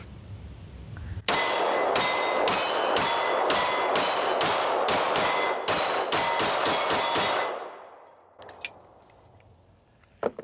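Rapid string of about a dozen sharp pistol shots from a Smith & Wesson M&P 2.0 Carry Comp, loud and close, firing in quick uneven succession with a couple of faint clinks trailing afterward.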